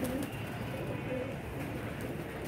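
Pigeons coo softly and steadily close by, with a voice talking over them throughout.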